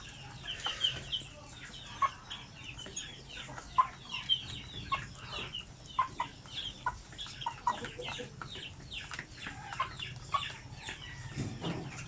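Basilan native chickens cluck repeatedly at close range, a steady patter of short soft calls over faint background murmur in a farm pen.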